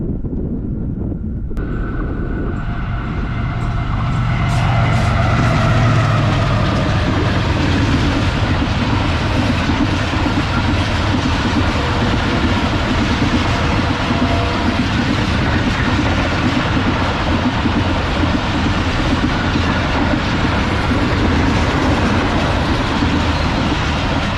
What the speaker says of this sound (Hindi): तो दोस्तों ये आ रही है 45 अब पाकिस्तान एक्सप्रेस कराची रावलपिंडी के दरमियान चलने वाली।